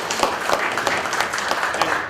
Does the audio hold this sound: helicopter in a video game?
no